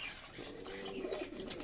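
Fancy pigeons, fantails and lotans, cooing softly at evening feeding, a few low throaty coos rising over a quiet background with faint higher chirps.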